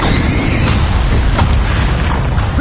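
Loud, dense booming burst from the Bombarda explosion spell in Hogwarts Legacy, a sustained rumbling blast that fills the whole moment with no voices over it.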